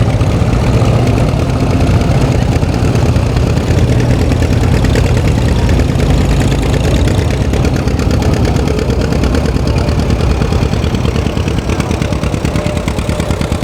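A John Deere tractor engine with a straight muffler idling steadily, a loud, close, rapid chugging putter that runs unbroken throughout, no talking.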